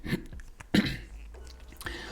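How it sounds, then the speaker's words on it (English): A couple of short, sharp coughs from a nearby person, one early and a stronger one just before the midpoint, followed by quieter breathy noises. "Sorry, I'm coughing."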